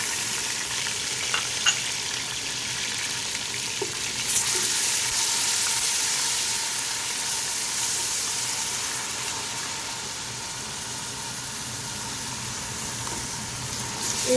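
Browned onions with ginger garlic paste fry in a pan over a low to medium flame, giving a steady close sizzle with occasional soft stirring scrapes and no talk.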